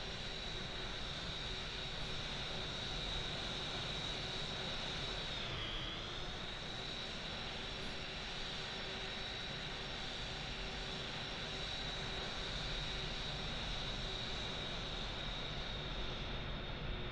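An airplane takes off along a runway, a sustained steady engine roar heard from a distance with a faint rising whine, and people talk quietly over it.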